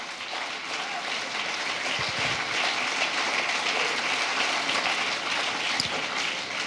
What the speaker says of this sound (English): clap for that one